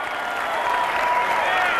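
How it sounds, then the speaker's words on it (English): A studio audience gives a warm round of applause honoring veterans on a New Hampshire television show. The clapping is full and close, holding at a steady level throughout. "Let's give a nice round of applause"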